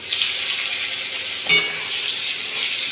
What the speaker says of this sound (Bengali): দিয়ে ভালোভাবে এটাকে তেলের সাথে আবার একটু ভেজে নেব